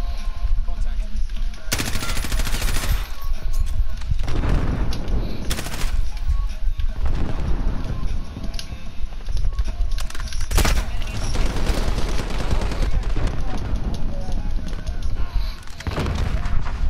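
Rapid automatic gunfire and explosive booms fill a Modern Warfare video game match, with bursts repeating loudly and densely across the whole stretch while a voice talks now and then under the shooting.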